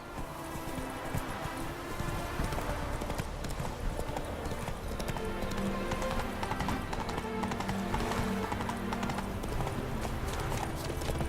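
Roach the horse galloping in The Witcher 3, a continuous rapid drumming of hooves up close and loud for the whole stretch, with no voices.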